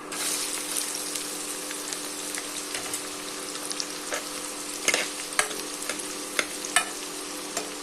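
Onion and garlic frying with cumin in a pan for kadhi pakoda, a steady bright sizzle with occasional stirring scrapes and clinks growing more pronounced toward the end.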